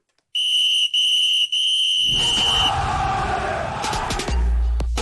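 A loud, sharp whistle blasts in three pulses, followed by a roaring crowd and a low rumble.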